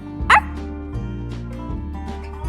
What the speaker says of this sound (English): dog barked.